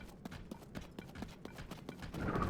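Horse hooves galloping in the video game Tears of the Kingdom, a brisk, regular clip-clop beat close up and fairly quiet, with a brighter rushing sound swelling in the last moments.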